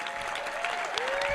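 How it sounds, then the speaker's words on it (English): Brief burst of clapping from a gathered group applauding the chefs after a hospital healthy-cooking challenge, moderately close and fairly quiet, lasting just over a second. "Give them a round of applause."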